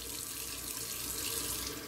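Cold water runs steadily from a tap in a dim bathroom during a power outage, a continuous broadband splashing hiss that stays close and even throughout, with no voices.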